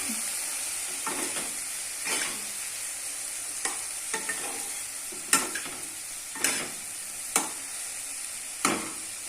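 Karamcha fruit for pickle, cooking in a pan with salt and turmeric, sizzles steadily while a spoon scrapes and stirs in repeated strokes every second or so.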